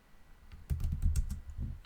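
Quick, close run of keystrokes on a computer keyboard as test code for a registration form is written, about a second of crisp, steady clicking.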